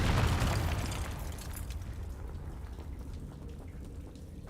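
A Confringo blasting spell bursts in Hogwarts Legacy, a loud broadband explosion at the start that decays into a rumbling, crackling tail lasting several seconds, with no talk.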